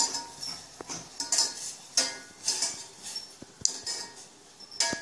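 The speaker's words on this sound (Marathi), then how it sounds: "तर आता आपण हे सगळं झाल्याने हलवून घ्यायचं आहे" A utensil clinks and scrapes against a pan while Maggi noodles with masala are stirred, irregular metallic taps and scrapes coming close and fairly loud, with no talking.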